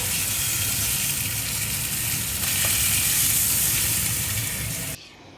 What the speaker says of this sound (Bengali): আমি একটু ঢেকে ঢেকেই ভাজি, যেহেতু মাছটা অনেক বড়, তাই